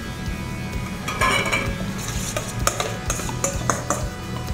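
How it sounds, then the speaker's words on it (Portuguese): Spoon stirring Peruvian ceviche ingredients with lime and raw fish in a bowl. Close, uneven clinks and wet scraping against the dish. "Mexemos para harmonizar os ingredientes e agregamos o peixe."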